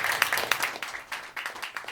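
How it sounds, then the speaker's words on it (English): A small audience applauds at an evening with Henry Mansfield, a fairly soft, loose patter of clapping that lasts under two seconds. "Give yourselves a round of applause for doing that."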